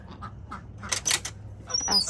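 Several ducks quack in short, scattered bursts at close range, building to louder overlapping calls near the end, over a low background rumble, with no talking.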